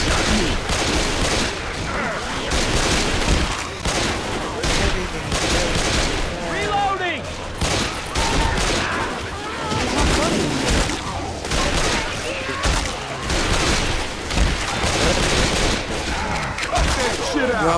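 Dense, continuous gunfire in the video game Left 4 Dead 2 during survival mode, loud overlapping shots and bursts with players calling out over the din.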